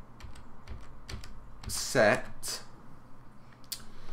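Rapid clicks of computer keys being typed, a steady patter of close taps with a brief burst of louder clatter midway, with someone speaking over it.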